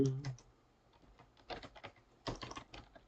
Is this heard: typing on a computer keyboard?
yes